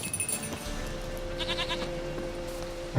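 A goat bleats in the video game The Witcher 3 over a quiet background with light clinking, like small bells, and a low steady hum throughout.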